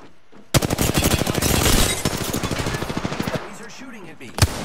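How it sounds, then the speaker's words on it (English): Rapid automatic gunfire in Apex Legends, a dense burst of fast shots lasting a few seconds, loud and close, followed by a single sharp shot, with a voice talking faintly in between. "These are shooting at me."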